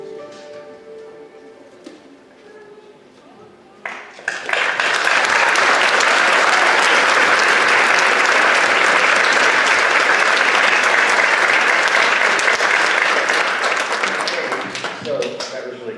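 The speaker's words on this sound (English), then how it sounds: "It felt like you were clapping for me." An audience at a school district board meeting bursts into loud, sustained applause after a few quieter seconds, with many hands clapping steadily before it tapers slightly at the end.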